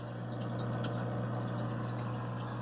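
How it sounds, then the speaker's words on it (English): Water flowing steadily out of a Lifegard Aquatics Top Flow Nano Turbo Reactor into an aquarium, a continuous close splashing trickle over a constant pump hum, with no pauses. "the water just flows out nicely"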